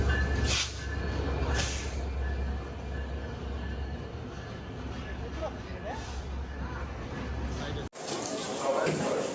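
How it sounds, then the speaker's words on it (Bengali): The Padma Express train rumbles steadily with low hiss and clatter as it arrives at a station platform, crowd babble around it, then a brief cut to a brighter, noisier stretch near the end. "অবশেষে আমাদের পদ্মা এক্সপ্রেস ট্রেনটি প্ল্যাটফর্মে প্রবেশ করেছে"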